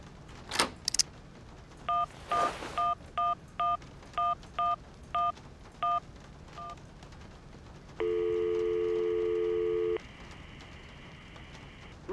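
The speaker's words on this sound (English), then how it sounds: "Okay, let's phone this guy." A telephone number is keyed in the adventure video game Syberia as a run of clean, evenly spaced touch-tone beeps, each short and distinct. A steady two-tone ringback signal follows for about two seconds over faint background hiss.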